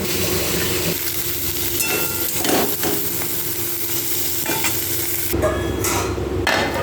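Banana pieces fry in oil in a kadai, giving a continuous loud sizzle with occasional stirring clatter close by, no talking.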